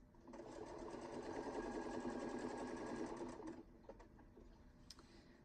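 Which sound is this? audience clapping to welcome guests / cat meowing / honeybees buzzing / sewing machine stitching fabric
sewing machine stitching fabric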